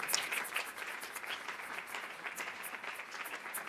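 Church congregation applauding, a brief, steady patter of many hands clapping, fairly faint and at a distance, with no talking.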